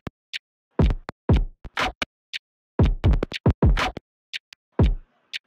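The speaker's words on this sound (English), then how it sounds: "And together with all those layers, the drums sound like this." Layered electronic drums in a single: crisp snare hits and hi-hats built with a granular-synthesis technique, played in a sharp, staggered groove of short percussive bursts with brief gaps, loud and close with no voice.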